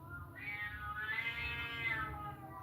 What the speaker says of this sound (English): That's a cat crying like that.